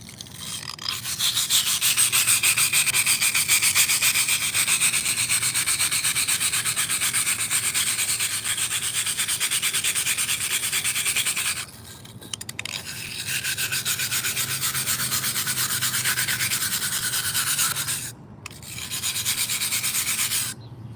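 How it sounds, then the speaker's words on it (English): A concrete patch is sanded by hand with firm pressure, a steady, close, scratchy grinding rasp that keeps going with two short pauses. "if you hold it down like this, it's really going to sand off a lot more of that concrete"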